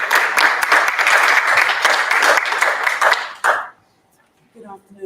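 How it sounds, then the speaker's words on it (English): An audience at a community dialogue event applauds warmly for Ms. Baba. The dense clapping runs for several seconds, then stops abruptly, leaving near silence and a faint voice beginning afterwards. "And a warm applause for Ms."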